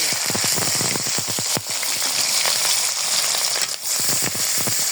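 Onion frying in oil in a wok, a steady close sizzle with dense crackling pops throughout, no one talking.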